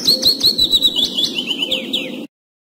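A bird chirps rapidly and continuously, a run of bright, close tweets in quick rhythm lasting about two seconds before stopping abruptly.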